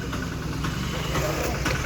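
A small engine idles with a steady rattling chug, close by and continuous throughout.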